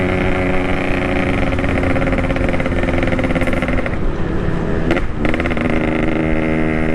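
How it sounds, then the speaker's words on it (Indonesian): Yamaha RX King two-stroke motorcycle with an aftermarket exhaust idling and revving close up, a loud raspy buzzing drone with a quick throttle blip near the end. "Dan ini si knalpot emang gokil sih."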